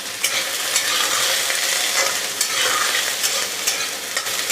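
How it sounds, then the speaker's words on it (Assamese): Soya chunks frying in hot oil in a wok, with a dense, continuous sizzle broken by repeated scraping and clattering strokes as the chunks are stirred, close and fairly loud, with no voices. "এইখিনি ভালদৰে কেঁচা গন্ধটো যোৱালৈকে ভাজি ল'ম।"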